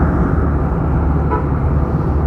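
Loud, constant roadway rumble as a big car passes a Honda Beat motorcycle on an open highway, dense wind and engine noise throughout with no voices.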